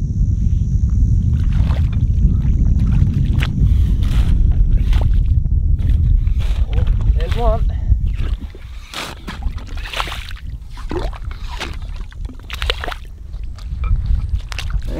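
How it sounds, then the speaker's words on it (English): A yabby pump sucks and slurps in holes of wet sand, loud wet gurgling and sloshing for about eight seconds, then quieter squelches, drips and scattered splashes. "And you use the pump to suck them out of the holes and spray them on the sand"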